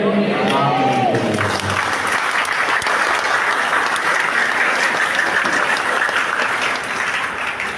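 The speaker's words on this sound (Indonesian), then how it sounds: "Jadi tepuk tangan ini tanda sudah terlalu lama." A congregation at a Catholic parish Mass, held to install neighborhood committee members on the parish anniversary, breaks into loud, sustained applause. A voice is heard briefly at the start before dense clapping fills the rest, tapering slightly at the end.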